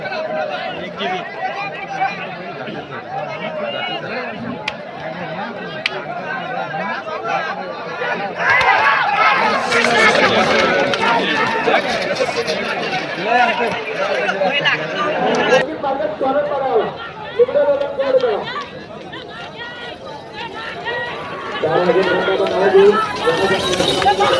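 A large, dense crowd at a bullock cart race in Nere village near Panvel, a steady roar of overlapping voices and chatter with louder surges, close and continuous throughout.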